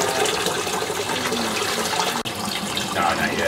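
Water spilling into the internal overflow of a newly set up 130-gallon coral reef aquarium, a steady close rushing splash with no break and no voices.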